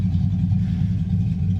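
A car engine idles steadily with one exhaust-valve lifter on cylinder number 3 not pumping up, a low, even rumble close by with no other sound.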